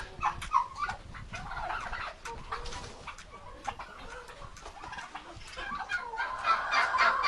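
A young turkey hen gives out a series of warbling, gobble-like calls, surrounded by other poultry clucking and chattering nearby in a busy, noisy yard.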